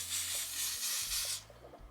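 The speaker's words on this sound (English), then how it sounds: "I would take lace bond, the lace bond spray, and I would just spray, literally spray it on it" Lace bond spray misted onto the lace band of a wig, a close, steady hiss in long bursts with a brief break, no talking.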